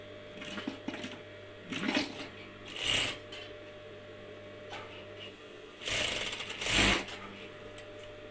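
Sewing machine stitching patchwork quilt triangles, running in several short bursts of rapid mechanical whirring separated by quieter pauses while fabric is handled, fairly close.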